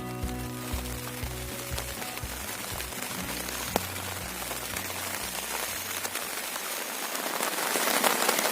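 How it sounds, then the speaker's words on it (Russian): Rain falling outdoors by a tent on a trip along the Dniester river makes a dense, steady patter that swells slightly louder toward the end, with no voices. "Дождь"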